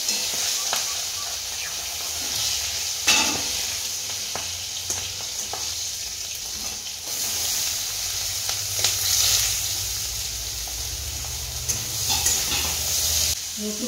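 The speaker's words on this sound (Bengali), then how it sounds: "একটু ফোড়নটা ভালো হলে তার মধ্যে দিয়ে দেবো পেঁয়াজ।" Onion hits a hot tempering of dried red chillies and green chillies in oil, crackling and sizzling steadily up close, with scattered clicks and scrapes of stirring and no speech.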